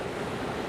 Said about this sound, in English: Those waves are incredible out there